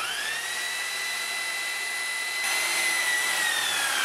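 A worn buffer pad spins on a polisher as a nail is held against it to clean it, producing a steady high whine that grows a little louder and rougher partway through.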